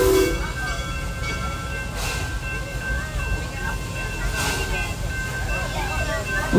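A park train at Busch Gardens pulls into a station, its steady rumble, hiss and brief horn-like tones rolling on continuously while people talk nearby.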